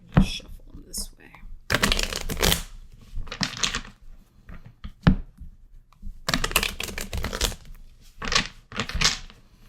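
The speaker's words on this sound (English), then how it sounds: "I'm gonna shuffle them this way." Tarot cards are shuffled by hand in several bursts of crisp riffling and sliding, close and clear, separated by short pauses with a person speaking intermittently between them.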